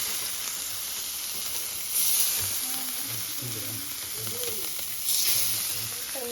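Salmon fillets sizzle in a hot pan, a steady close hiss with faint crackles and two brief louder surges of spitting, with no talking.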